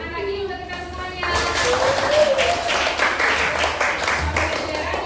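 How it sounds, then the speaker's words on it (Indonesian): Applause from a seated audience at a teachers' training session breaks out suddenly after a quiet opening and holds steady as a dense wash of clapping, with a voice heard over the clapping. "Tepuk tangan lagi untuk kita semuanya."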